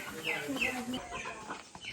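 Chickens cluck and a rooster calls briefly nearby, with some talking mixed in.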